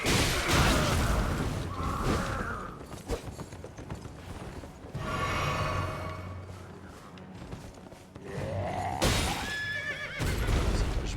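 Horses neighing and whinnying in the Elden Ring video game, several loud calls spread across the stretch with hoof clip-clop and game mechanism noises between them.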